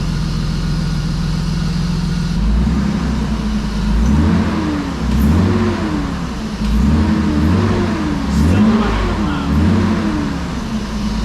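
A loud car engine with the muffler removed idles roughly inside a garage, then revs up and down several times in a row, its raw, unmuffled rumble rising and falling nearby.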